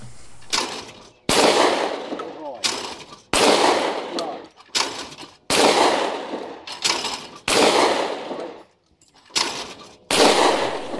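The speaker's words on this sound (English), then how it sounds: "we're loading up the shotgun. I think it's 5 rounds, and just going bang bang bang bang bang bang and hitting as many as we can." A shotgun fires repeatedly at clay targets on a rifle range, loud sharp blasts spaced a second or two apart, each followed by a short decaying echo, with no talking.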